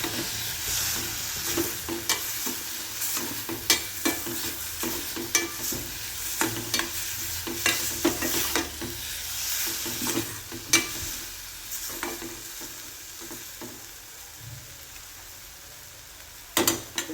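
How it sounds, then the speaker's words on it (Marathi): Pizza topping with garlic powder being sautéed in a pan, giving a steady close sizzle and frying hiss throughout, with recurring scrapes and clicks of a spoon stirring against the pan. "असं हे परतून घेऊया।"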